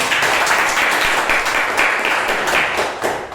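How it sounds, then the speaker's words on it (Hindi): Audience applause in a hall during a Hindi motivational talk, steady dense clapping from many hands sustained throughout at moderate loudness, with no voices over it. "तालियां।"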